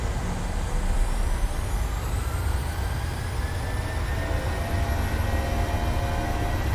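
Boeing 737 jet engines in Microsoft Flight Simulator roar steadily at takeoff thrust, a loud continuous rumble with rising whine tones layered on top, nearing no voices throughout.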